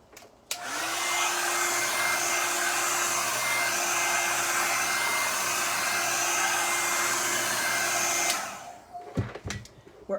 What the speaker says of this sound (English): let's hit this with a hairdryer real quick.